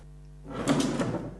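A drawer in a home darkroom slides open or shut with a short wooden rumble and a soft knock, close and alone against faint room hum.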